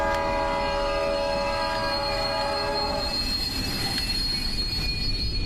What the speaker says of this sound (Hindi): ट्रेन अपने आप रुक गई क्या?